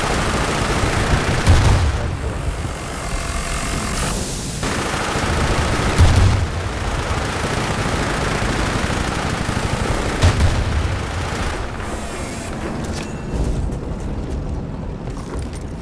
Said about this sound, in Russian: кто там перестреливает?